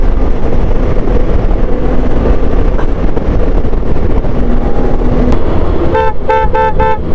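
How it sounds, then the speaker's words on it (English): Loud wind and road rumble on a BMW K1600 GTL motorcycle, then a few short, loud car-like horn honks in quick succession near the end. "The horn is pretty loud. It sounds like a car horn"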